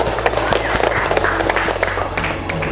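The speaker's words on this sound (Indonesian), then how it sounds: "kita berikan aplaus dulu buat kelompok" Classroom applause for a presenting student group: many hands clapping in a dense, steady patter throughout, close and fairly loud, filling the room without a break.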